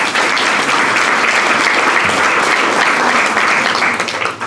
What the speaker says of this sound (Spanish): Regálale un aplauso, Señor.